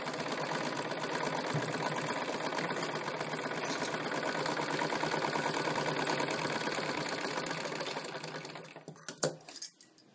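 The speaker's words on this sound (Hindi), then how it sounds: "सबसे पहले इस भाग में इस तरह से ऊपर से सिलाई करते हुए" A sewing machine stitches a strip onto a blouse, its fast, even needle rattle running for about eight seconds before winding down. A few separate clicks and taps follow once the motor stops.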